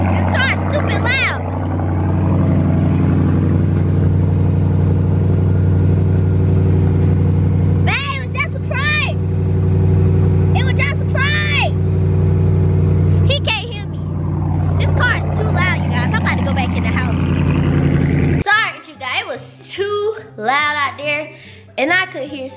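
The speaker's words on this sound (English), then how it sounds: "This car's stupid loud." Loud car engine: a steady low drone that runs under near-continuous talking and fades near the end as the voices carry on alone.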